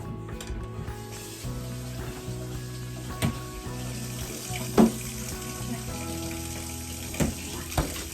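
Water runs steadily from a kitchen tap during hand washing, a continuous hissing flow with a few brief splashes and clinks, heard nearby while preparing a strawberry cake.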